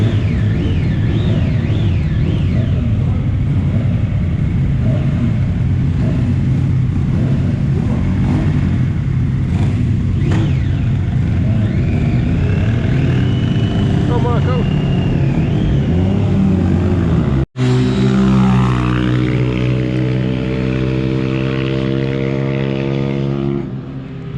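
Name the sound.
racing motorcycles at Mallory Park, one overtaking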